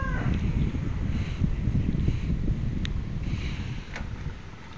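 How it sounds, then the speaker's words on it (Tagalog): Strong wind from Typhoon Kristine in Bulacan, Philippines roars steadily into the microphone, a dense rushing noise with gusts, loud throughout and slowly easing at the end. "ang lakas pa rin ng hangin"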